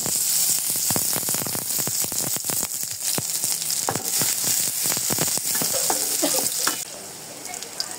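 Sliced onions fry in oil in a kadai wok, giving a loud, continuous close sizzle with crackling pops throughout that quiets slightly near the end.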